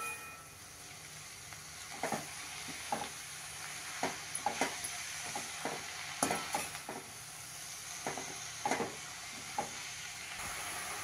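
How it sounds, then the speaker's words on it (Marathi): Chopped amaranth greens are stirred in a pan over a low flame, with a soft steady frying hiss and a dozen or so sharp spatula taps and scrapes at irregular intervals, fairly faint overall. "चिरलेली भाजी घालून घेतली आहे, हलवून घेऊया."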